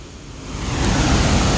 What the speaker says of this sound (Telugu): చూడండి వాటర్ పడుతుంది